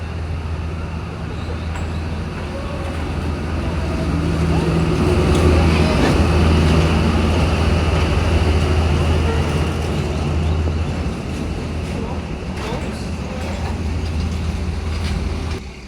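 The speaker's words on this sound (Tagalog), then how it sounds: "saktong pagdating ko ay papadating na rin yung tren" A steady, loud rumble of a train rolling past very close on Train Street in Hanoi, Vietnam, with a continuous low drone and rattling that swells and then eases slightly.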